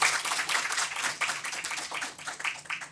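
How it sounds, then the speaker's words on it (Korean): Audience applause at a Korean conference on the Fukushima treated-water release, dense steady clapping from a crowd lasting throughout at moderate level, no talk over it. "다시 한번 뜨거운 박수 부탁드립니다"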